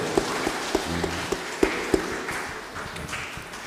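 Members of the HKBP congregation in Jogja clap in a church service, several sharp hand claps at first, then softer scattered clapping that fades into the room's murmur.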